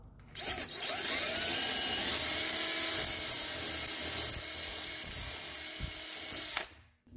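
A high-pitched power drill with a 25/64 bit whines steadily as it bores through metal on a Nissan Rogue front wheel hub job for several seconds, close and loud, with a few clicks before stopping.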